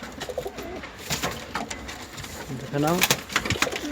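Oman Teddy pigeons coo repeatedly at close range, soft throaty calls rising and falling, while someone talks over them in a room.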